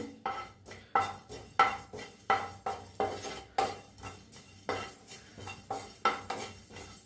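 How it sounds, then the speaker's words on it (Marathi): A spoon scrapes and clinks against a pan in a steady, repeated rhythm while coriander and cumin seeds dry-roast, each stroke a sharp metallic scrape, close and fairly quiet with no talk. "ते बी भाजून घेऊया त्याच्यातच टाकूया जिरं बी त्याला बी हलकं भाजून घेऊया"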